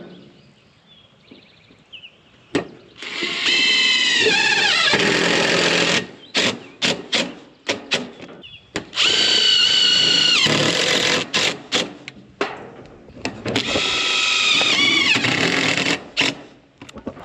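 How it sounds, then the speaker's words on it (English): A power drill drives screws into metal roof trim on a barndominium build, with three long loud whirring runs broken by short bursts and clicks between them, close by and without talk. "Alright, and then we're just going to screw that all the way up."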